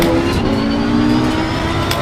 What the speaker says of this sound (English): It sounds like the car is too low on the revs,